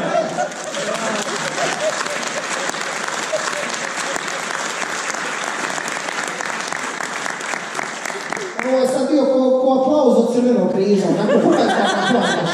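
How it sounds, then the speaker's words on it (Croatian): Stand-up comedy audience bursts into sustained applause mixed with scattered laughter and cheers, steady and full for most of the stretch, then thinning into chuckles and a few voices near the end. "Ovo je sad bio ko aplauz od Crvenog križa"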